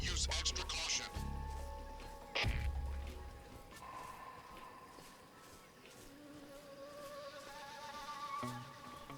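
Angry bees buzz from a stirred-up hive in the video game Metal Gear Solid Delta: Snake Eater, a steady droning swarm mixed with game sounds and a couple of sharp thumps, fairly faint, with voices talking over it.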